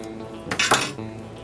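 A knife pressing into a whole onion on a kitchen board, with a short burst of crisp cutting and knocking against cookware, nearby and moderately loud, alone without talk.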